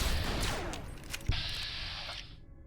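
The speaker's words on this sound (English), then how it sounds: "I got the fire rate upgrade, but I didn't realise it upped the fire rate quite so much." Rapid automatic gunfire from an upgraded weapon in Fallout: New Vegas, a dense stream of shots with one sharp crack near the middle, loud and close, ending in a brief mechanical tail.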